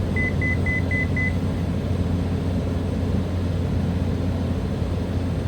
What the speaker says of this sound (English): We get a beep in 3, 2, 1, beep.